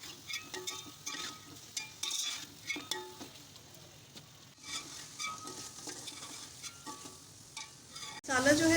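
Tomato masala fries on full flame while a spoon stirs it, producing a soft, quiet sizzle with scraping and light clinks. A louder burst of hissing comes right at the end.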